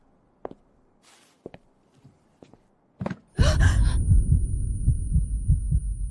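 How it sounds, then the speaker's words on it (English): A heartbeat sound effect thumps in a few sparse, isolated beats, then gives way to a loud, sustained rumbling swell with a high whine, dramatic and close. "Everything stands still. Only the heartbeat roars."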